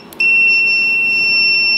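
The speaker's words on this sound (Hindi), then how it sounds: "कितना तेज बीप है इसका" A digital multimeter's continuity beeper sounds after a brief click, holding one loud, piercing, steady tone through to the end.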